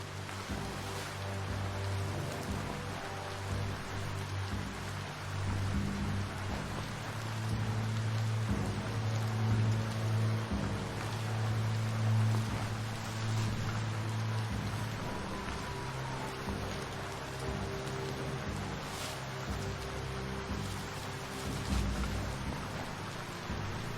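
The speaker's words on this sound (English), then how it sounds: "No escaping the rain if you've got to be out." Steady rain falls in the video game Biomutant, a continuous soft hiss running the full length under a low, sustained musical drone, with no voices.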